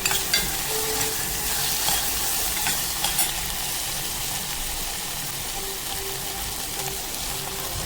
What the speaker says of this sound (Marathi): हे छान परतून घेऊया